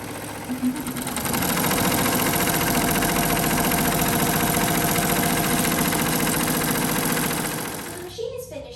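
An embroidery machine from Happy Japan stitches out a batch of patches with a steady, close mechanical whir and rapid needle chatter that holds for several seconds before easing off.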